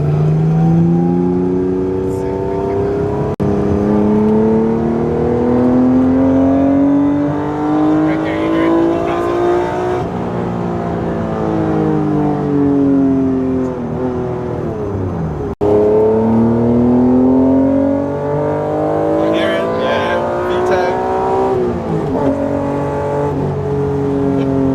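Throaty 1991 Honda NSX engine heard from the passenger seat on a ride-along, revving up and down through repeated pulls and shifts, loud and continuous for the whole stretch.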